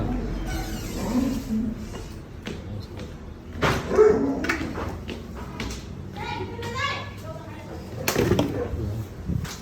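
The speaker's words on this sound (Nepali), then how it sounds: "यो घरमा एउटा कुकुर छ कि होइन" A dog barks and whimpers indoors at a house, with short yelps mixed among children's voices and chatter close by.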